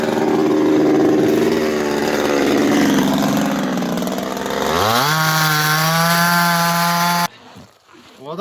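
A chainsaw roars at full throttle, then its pitch climbs and holds steady at high revs before cutting off abruptly in minus 35 to 40 degree frozen winter conditions, leaving faint crunching and handling noises.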